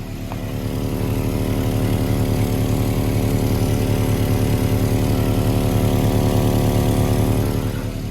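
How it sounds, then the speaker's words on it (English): A Volvo redblock car engine with an exhaust leak idles close by with a rough, steady, rumbling drone that holds unchanged for several seconds. "Sounds like he's got an exhaust leak over here."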